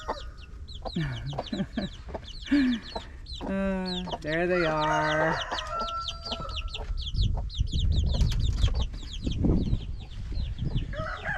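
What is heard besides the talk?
broody hen clucking with her chicks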